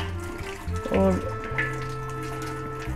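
Water runs from a tap into a sink while fish is rinsed and scrubbed with gram flour, a steady close splashing stream, with someone speaking briefly over it.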